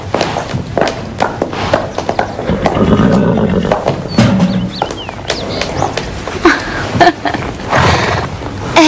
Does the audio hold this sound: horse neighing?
yes